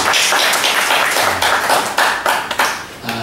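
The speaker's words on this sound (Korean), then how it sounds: "박수 한번 쳐주십니다." A church congregation at a Wednesday worship service claps briefly for a visiting pastor, a dense, steady patter of many hands at moderate distance with no talk over it.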